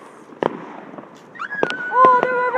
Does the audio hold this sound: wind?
no